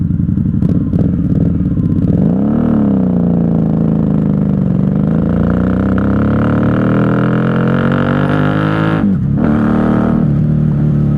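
A 1994 Honda Magna 750 VF750C V4 motorcycle engine revs and accelerates on a night highway, a loud, close, rising drone with gear-change dips, held under heavy wind roar.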